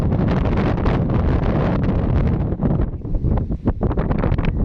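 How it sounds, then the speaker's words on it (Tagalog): Loud wind pummels the microphone at a Mount Arayat viewpoint beside the Arayat–Magalang bypass road, a dense rumbling roar that briefly dips and flutters near the end. "Sobrang hangin dito guys."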